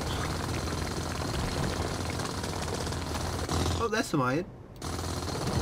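A hand drill mining rock in Space Engineers grinds in a continuous loud rasping drone, briefly broken by a voice speaking near the end before the drilling cuts out and resumes.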